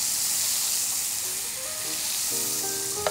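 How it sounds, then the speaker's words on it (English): Scallops sizzle and fry in a pan with unsalted butter, a loud, steady hiss filling the space, with a few faint crackles and pops near the end and no talking. "Now take all four of the scallops, turn them over. Then I'll add some unsalted butter."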